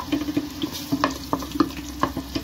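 Chopped onion frying in a pressure cooker, a steady sizzle under a series of sharp utensil clicks and scrapes spaced irregularly through the clip.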